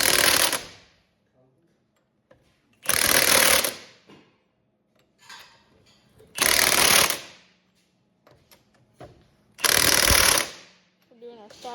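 A Milwaukee impact wrench with a torque stick tightens lug nuts on a 2014 Ford F150 SuperCrew, firing in four loud hammering bursts of about a second each with quiet gaps between them.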